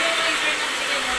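A hair dryer blows with a steady, loud, broadband whoosh, continuous and close, while hair is combed.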